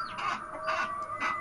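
A chicken clucks in a Bengali horror cartoon. Three bursts of clucking come in a rhythmic pattern, close and clear, with no talk.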